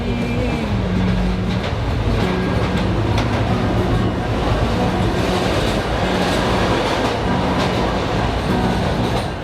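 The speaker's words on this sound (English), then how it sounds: "As the train rumbled through the night" An overnight train in India rumbles steadily along the tracks with rhythmic clacking and a low continuous roar, loud and close for the whole stretch.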